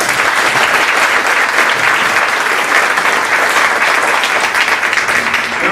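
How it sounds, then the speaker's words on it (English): Sustained audience applause at a high school JROTC awards ceremony, steady dense clapping from a large crowd filling the hall without break for the whole stretch. "Please give them a round of applause."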